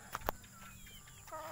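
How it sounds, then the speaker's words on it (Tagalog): Native chickens in a farmyard pen make a couple of short, faint clucks among quiet ambient noise and a few soft bird calls. "native chicken namin, mga katropa"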